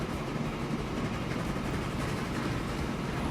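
A train running in the Transport Fever rail-management game gives a steady, dense rumbling hum that holds at an even level throughout, with no voices over it.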